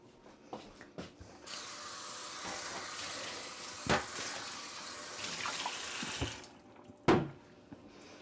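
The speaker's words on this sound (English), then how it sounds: "I'm going to just flop some cold water on that, and the steam helps the pastry rise" Cold water poured onto a baking sheet for steaming pastry, a faint, uneven splashing and hissing trickle punctuated by a few sharp metallic knocks.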